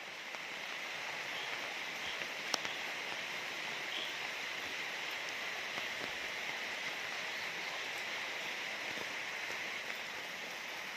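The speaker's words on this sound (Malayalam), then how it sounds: "മഴ ചന ചനന്ന് പെയ്യുന്നുണ്ട്" Steady rain falls outdoors as a soft even hiss that holds throughout, faint and distant, with a few scattered drips standing out.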